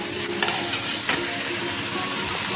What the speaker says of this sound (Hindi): प्याज ऐड करने के बाद थोड़ा सा इसको हम करेंगे फ्राई